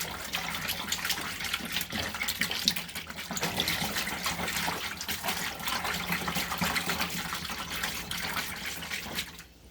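Water is stirred and mixed with Dawn dish soap, a steady close gushing and sloshing that runs unbroken for nearly ten seconds before fading at the end.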